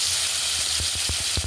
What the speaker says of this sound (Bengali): এখন দিতেছি মুরগিগুলা